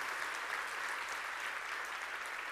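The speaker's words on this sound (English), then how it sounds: "A huge round of applause, please." Steady, sustained applause from a conference keynote audience, a dense wash of clapping filling the room without pause and no voices standing out.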